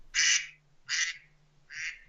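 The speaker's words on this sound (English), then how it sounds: "Is that your phone? That's my phone, bro. My duck quack." A duck-quack phone ringtone sounds three times in a regular rhythm, loud, nasal, clear quacks separated by short pauses with a low hum underneath.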